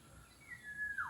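A single bird calls with a rising, sustained whistle-like note over quiet outdoor ambience, fairly faint.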